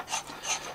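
A file rasps across the carved wooden body of a through-neck bass guitar in two short, quiet strokes, close and alone.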